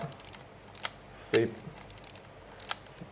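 A Canon QL17 III rangefinder film camera fires its shutter and winds the film on, giving a few sharp mechanical clicks and a brief ratcheting advance close by.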